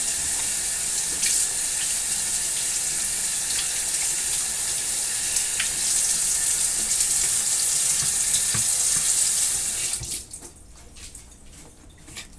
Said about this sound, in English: you better wash your hands.